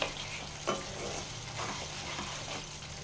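Jackfruit and potato curry fries in oil in a pan with a steady, close sizzle, broken by a few stirring scrapes partway through, and nobody talks.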